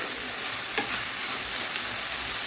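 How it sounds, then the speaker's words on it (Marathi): Green chillies fry in a masala for a yogurt chilli dish, making a dense, even sizzling hiss up close with one brief sharp tick, and no voices. "या मसाल्यात मस्त आपली मिरची फ्राय होते"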